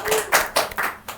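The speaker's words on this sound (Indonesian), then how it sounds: "Kita tepuk tangan untuk narasumber kita hari ini." A small audience claps for the guests of a podcast, with a few loose, uneven bursts of hand claps over about a second, close by and brief.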